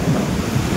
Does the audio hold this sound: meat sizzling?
no